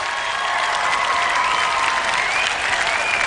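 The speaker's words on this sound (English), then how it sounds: "Now, that deserves a round of applause." Crowd gives a sustained round of applause after a college football win is announced, loud, dense and even clapping throughout.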